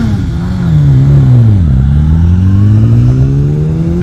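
A BMW sprint car, driver David Warburton, launches hard at Hoghton Towers and accelerates away, its loud, close engine rising in pitch, dipping briefly at a gear change, then climbing again, with no talk over it.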